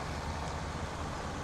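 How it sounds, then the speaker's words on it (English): A tractor engine in the farming video game Farming Simulator 17 hums at a steady low drone, continuous and fairly faint, with no talk. "So apologies for the engine noise"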